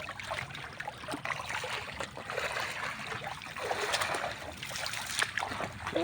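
Floodwater on a farm after rain flows and splashes steadily nearby, a continuous rushing trickle with occasional louder spatters.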